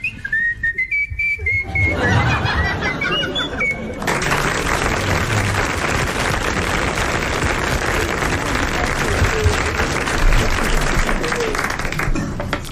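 A person whistles a nightingale imitation, a rising trill of chirpy notes in the first seconds, then a loud burst of audience applause and clapping takes over and continues steadily to the end.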